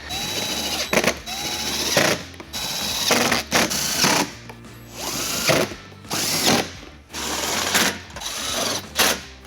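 Power tool driving eight 10mm bolts along the top of the reinstalled front fascia on a 2015 Chevrolet Corvette during a trailer hitch installation: repeated short whirring bursts of the driver, close and loud, separated by brief pauses and small clicks.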